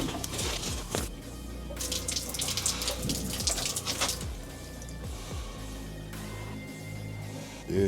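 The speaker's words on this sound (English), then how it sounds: "Why is it when you turn on the pipe, we're getting water back in?" Water rushing through a hot water line pipe during a DIY hot water tank replacement, a steady broadband flow with occasional surges and gurgles, fairly close and loud throughout with no talk.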